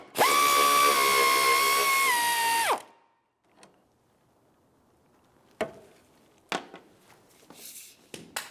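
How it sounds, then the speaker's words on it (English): A power tool whirs loudly for under three seconds, backing out the hood bracket mounting bolt on a 2000-2006 Chevrolet Tahoe, then winds down, followed by quiet metallic clinks and handling knocks. "we're going to remove our last mounting bolt that holds the bracket to the hood"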